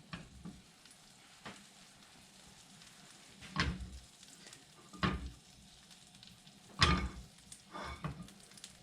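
Butter melts and sizzles in a pan on a home stove: a soft, steady frying hiss, with a few sharper clicks and clatters of pan or utensil.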